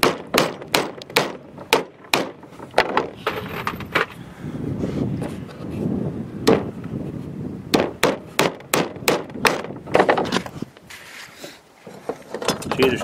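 Roofing nails are driven with a hammer into a muskrat float, a loud, rapid series of sharp close strikes in bursts, with a brief quieter pause of muffled handling in the middle.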